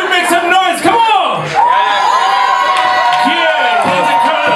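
A concert crowd cheers, whoops and shouts loudly and steadily, a dense roar of voices with rising calls layered over it throughout.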